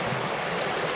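A river rushes past in a steady, broadband wash of flowing water, close and continuous for a brief moment, with no voices.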